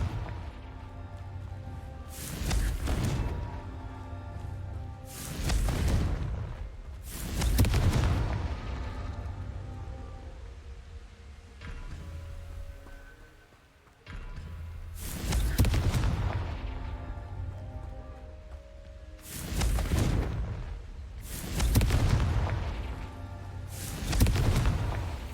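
Confringo fire-spell explosions in Hogwarts Legacy: a series of about eight heavy booms at irregular intervals, each with a rushing blast tail over a low background rumble, no talking.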